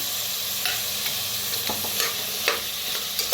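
Tomatoes are stirred into masala frying in a pan for masale bhat. A constant sizzle runs underneath, broken by regular scrapes and taps of the spoon about every half second.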